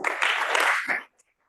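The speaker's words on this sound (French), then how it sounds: "Et applaudir encore." Audience applause at a scientific day, a dense burst of clapping lasting about a second before cutting off abruptly into silence.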